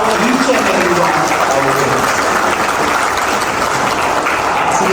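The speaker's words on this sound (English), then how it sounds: "One round of big applause for each and every one." Loud, dense applause from a large audience fills the whole stretch, steady and unbroken, with voices faintly mixed into the clapping.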